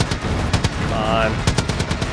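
Rapid automatic gunfire rattles in Far Cry 5, a loud close burst of repeated shots with a brief mechanical whine in the middle, while a voice speaks over it.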